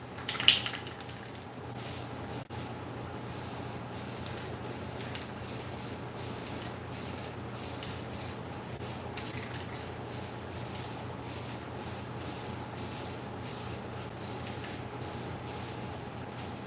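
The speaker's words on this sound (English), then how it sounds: "I was looking because I have spray painted over that part" Spray can laying down flat red primer in a shop, a steady faint hiss broken into many short rhythmic bursts, mostly regular pulses with brief gaps, close and alone.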